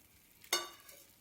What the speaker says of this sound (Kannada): ಈಗ ಇದಕ್ಕೆ ಮಂಡಕ್ಕಿನ ಹಾಕ್ಕೊಳ್ತೀನಿ.